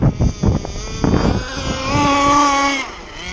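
A ZippKits Super Sport model boat racing across water, its engine whining steadily and rising in pitch as it passes, loud and fairly close.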